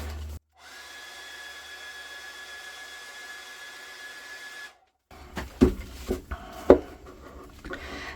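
A hair dryer blows a steady, fairly loud whine for about four seconds to dry wet layering solution on a canvas, then cuts off, followed by a few sharp handling knocks and clatters.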